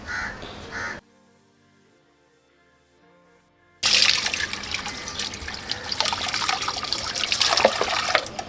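Water is poured into a goat intestine to clean it: a brief burst of splashing, a near-silent pause of a few seconds, then a loud, steady gush and gurgle of flowing water.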